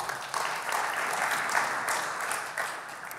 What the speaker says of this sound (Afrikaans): Ag gee vir die orkes 'n lekker hande klap toe.